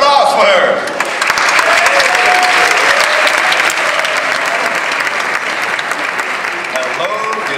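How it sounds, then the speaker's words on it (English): Loud, sustained audience applause fills a Eurovision 2011 semifinal winners' press conference, steady throughout with a few voices faintly mixed in. "Big applause for her."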